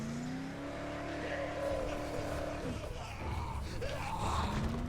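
A car driven in the zombie game Dead Island 2, its engine droning steadily with a rising and falling pitch and a shift partway through, heard fairly close under game noise.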